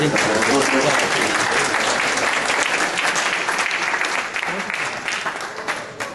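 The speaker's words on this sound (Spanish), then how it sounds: "Vamos a despedirlo con un fuerte aplauso y gracias." Loud, sustained applause from an audience at a civil service forum, a thick continuous clatter of many hands that holds steady throughout and eases slightly toward the end.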